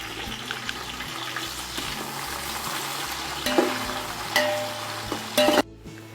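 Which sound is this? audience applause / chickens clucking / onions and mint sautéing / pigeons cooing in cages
onions and mint sautéing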